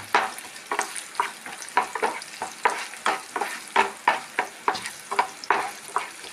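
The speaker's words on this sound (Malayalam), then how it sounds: "വെച്ച വെളുത്തുള്ളി നന്നായി ഫ്രൈ ആയി" Garlic fries in a pan for garlic chutney powder, its sizzle broken by regular scraping strokes of a spoon about every half second, close and fairly loud, with no voices.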